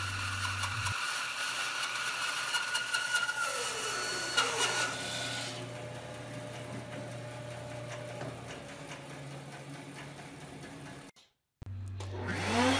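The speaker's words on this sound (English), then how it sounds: "I prefer the bandsaw, since I have one and I can do it in just one pass." A bandsaw slices the lid off an oak treasure chest in one pass, a steady motor whine and hum with a faint cutting rasp, fairly quiet, then a brief dropout before the machine drone returns.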